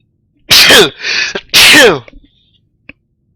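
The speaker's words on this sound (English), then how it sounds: "that was such a girly sneeze." Two loud, close sneezes from a person, each a sharp burst, with a faint breathy sound between them and silence after.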